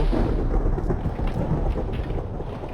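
Thunder in a Minecraft world running the Realistic Biomes addon: a dense, continuous low rumble with rain hiss on top, heavy and sustained without a break.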